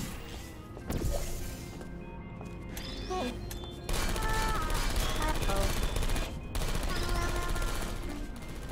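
Turret gunfire in a Portal 2 community map, long rapid bursts of automatic shots with brief pauses between volleys, loud and sustained.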